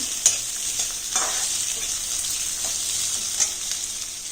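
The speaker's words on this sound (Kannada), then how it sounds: "ಬೆಳ್ಳುಳ್ಳಿ ಶುಂಠಿ ಸ್ವಲ್ಪ ಕಮ್ಮಿನೇ ಇರಬೇಕು. ನೋಡಿ ಚೆನ್ನಾಗಿ ಫ್ರೈ ಮಾಡ್ಕೊಬೇಕು." Steady hissing sizzle of garlic and ginger frying in a hot pan, with a few soft clinks of stirring; no voices.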